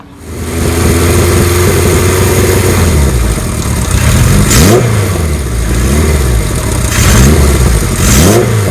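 A 1977 Kawasaki KZ1000A motorcycle engine idles and then revs repeatedly, with loud, close throttle blips that rise and fall over a steady rumble.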